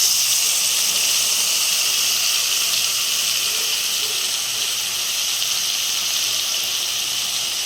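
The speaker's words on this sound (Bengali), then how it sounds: "ভাজা হয়ে গেলে, হালকা করে ভাজা হয়ে গেলে ওর মধ্যে দিয়ে দেবো সেই পেস্ট করা মশলাটা" Steady loud sizzle and hiss of spice paste hitting hot oil in a pan of tangra fish for a Bengali curry, a continuous bright frying roar with no talk.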